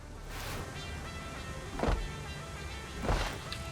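A truck engine hums steadily while driving in a video game, with a low continuous motor drone and a couple of brief louder bumps or whooshes.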